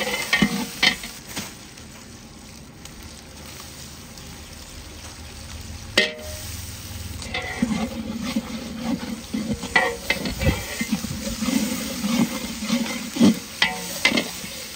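Ginger paste fries in hot oil with a steady sizzle under repeated clinking, scraping stirs of a spoon against the pan, close and fairly loud throughout.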